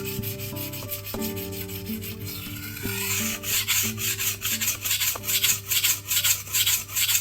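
A knife blade is sharpened on a very abrasive Tyrolit stone with a steady rhythm of repeated gritty rasping strokes, close and clear, under faint background music.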